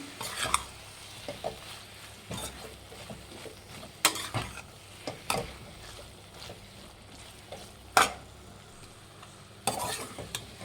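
Vangi bath gojju, a brinjal rice masala, stirred in a pan: soft, quiet scraping and mixing with a few sharp clinks of spoon on metal at irregular intervals.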